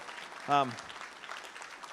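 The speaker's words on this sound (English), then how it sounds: "So a round of applause for Canada." Faint, scattered applause from a film festival audience continues steadily, broken by one short vocal exclamation.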